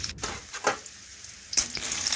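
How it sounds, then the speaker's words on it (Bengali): Crushed garlic cloves fry in oil in a pan as they are stirred, giving a soft steady sizzle broken by a few brief scraping clatters, close by with no talking. "এখন রসুন একটু ভাজা ভাজা করে নিচ্ছি।"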